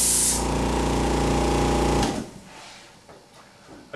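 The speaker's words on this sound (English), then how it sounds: "Now I'll spray the second apple with electrostatics, but for 2 seconds." Electrostatic mold-remediation sprayer misting an apple for about two seconds, a steady loud mechanical buzz with hiss that cuts off abruptly, leaving a quiet tail of faint rustling.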